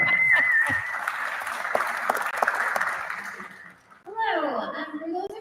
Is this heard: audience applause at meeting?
yes